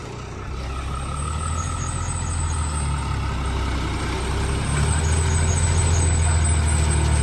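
A heavy truck starts up and creeps forward slowly, its deep engine rumble growing louder toward the end, with thin high beeps sounding faintly above it.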